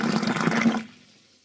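Boiling water poured into a toilet bowl to descale it, a loud close gushing splash for under a second that cuts off into faint trickling, with no talk.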